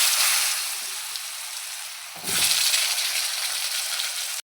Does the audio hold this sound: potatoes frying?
yes